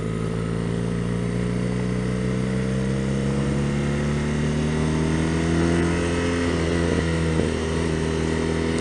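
A BMW R nineT Racer motorcycle's engine heard from the rider's position on a gravelly road, a steady loud drone with changing pitch as the throttle is jerked and the clutch let out.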